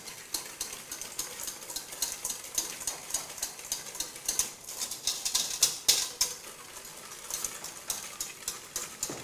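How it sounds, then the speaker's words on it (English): Sugar and vanilla essence are beaten together in a bowl for a Guyanese trifle, giving a fast, steady rattle of clicking and scraping strokes, fairly quiet and close, with no talk. "We're going to beat that all together."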